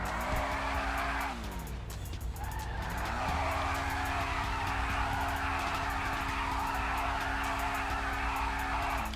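A Hennessey Camaro ZL1 in GTA 5 revs with a steady engine drone while its tires squeal and skid loudly, the pitch dipping and climbing as it slides, with no talking.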